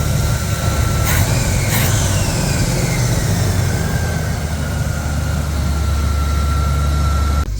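A 1983 Z28 Camaro V8, a third-generation car, idles steadily and close by with a deep, even rumble. A faint whine runs high above it, with no belt squeal, and nobody speaks.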